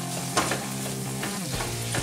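Tomatoes fry with onion and spices in a pan, a steady close sizzle with occasional stirring scrapes.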